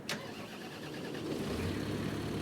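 A tractor engine in Farming Simulator 25 cranks with a quick bright burst, then catches and settles into a steady mid-pitched idle that grows slightly fuller, heard alone without talk.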